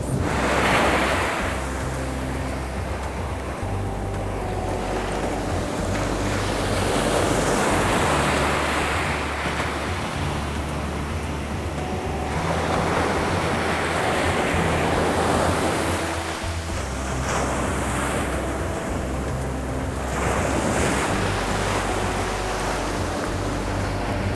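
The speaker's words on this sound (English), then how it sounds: "the wind is blowing out to the ocean" Ocean waves roll onto a beach while wind blows out toward the sea, a loud continuous roar that swells and recedes in slow surges, with wind buffeting the microphone and no voices.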